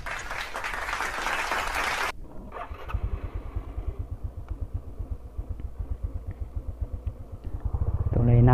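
Honda XRM 125fi motorcycle with a 13/34 sprocket setup climbing a mountain road, its engine pulsing in a steady, near and loud rhythm after a burst of wind noise, building louder near the end.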